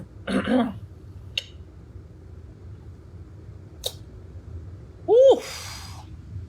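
A woman nearby clears her throat in a short husky burst, then gives a louder strained cough a few seconds later, with faint breaths and small noises between them in a quiet room.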